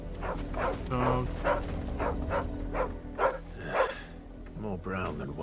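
A dog barks in the video game Final Fantasy XVI, a series of short, evenly spaced yips and woofs, close and fairly loud, with a voice talking near the end.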